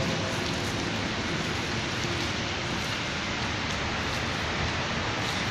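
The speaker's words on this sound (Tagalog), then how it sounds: "malamig ngayong umaga maulan" Rain falls steadily on a cold morning, a dense, even hiss of drops on surfaces that stays constant and moderately loud with no voices or other sounds.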